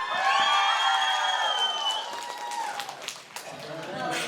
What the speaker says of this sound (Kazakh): Сборный достар шапалақ!